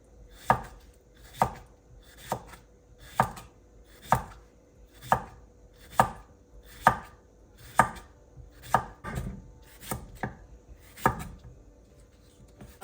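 A knife slices ingredients for chicken salad on a cutting board, making about a dozen crisp, evenly paced cuts up close, each a short tap with a slight board knock.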